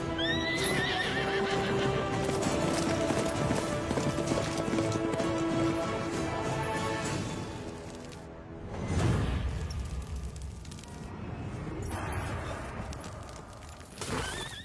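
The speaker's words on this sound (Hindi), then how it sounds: "सरकार, घोड़े ने क्या किया है?" A horse gallops with heavy, rhythmic hoofbeats and lets out loud whinnies in a dramatic action scene from a Baahubali film trailer, with a sweeping orchestral score underneath.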